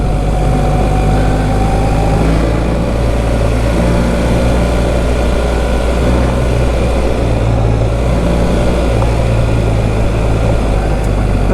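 An off-road vehicle's engine runs steadily and loudly up close, a continuous low rumble with a constant drone and no break or voices.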